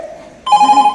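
A telephone bursts into loud, bright electronic ringing midway through a scene of an Urdu stage drama, the steady warbling tone following a quieter, humming stretch.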